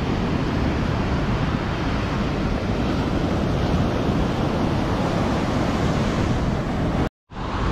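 Ocean surf rolling onto the long C-shaped beach at Nha Trang, a loud continuous roar of breaking waves mixed with wind buffeting the microphone, cutting out abruptly just before the end.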